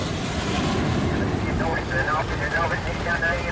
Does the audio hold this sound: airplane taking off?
yes